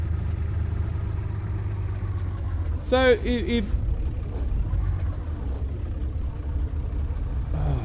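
A STAR 200 mod truck in Euro Truck Simulator 2 drones with a loud, steady low engine rumble that runs throughout, with a brief tonal chime partway through and someone talking over it.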